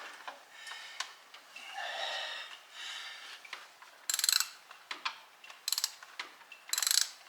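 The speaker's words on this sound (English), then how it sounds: "hold on to the socket so you can get the thing to ratchet so it doesn't turn backwards when you go back" A socket ratchet works a bolt on a 2003 Mitsubishi Galant 2.4L 16V during a thermostat replacement. The pawl clicks in short, quiet bursts of rapid ticks, several strokes in a row, with faint breathing and handling noise between them.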